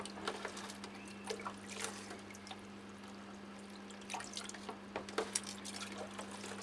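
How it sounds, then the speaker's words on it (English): Water poured gently onto a potted Dendrobium chrysotoxum orchid, faint splashing and dribbling in a few short bursts over a steady low hum, quiet and close, with no speech. "Let's water it to weight it down a little."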